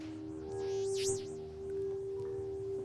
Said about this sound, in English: this speaker up here emits sounds that have been harvested from the River Rhine